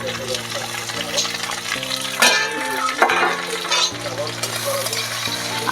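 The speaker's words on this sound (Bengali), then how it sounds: "কিছুটা কোচানো পেঁয়াজ আর যে ক্যাপসিকামটা কেটে রেখেছিলাম সেটা এবার তেলের উপরে দিয়ে দেবো" Sliced onions and capsicum fry in hot oil in a pan, a continuous close sizzle broken by a few louder stirring scrapes, with a steady hum running underneath.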